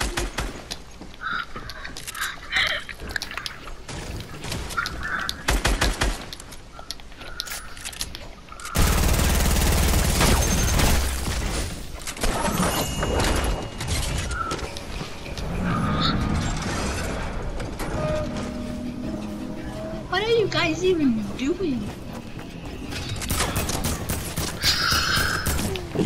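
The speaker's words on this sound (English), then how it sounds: "I don't like the sound of gunshots." Gunfire in Fortnite crackles in bursts and rapid volleys, loud and close at times, mixed with mechanical clicks and reloading sounds, while players talk and shout over the action.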